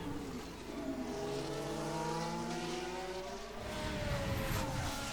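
Formula 1 race car engine in a racing video game, a high droning whine with rising harmonic sweeps as it accelerates through gears, loud and continuous, with a brief dip near three and a half seconds.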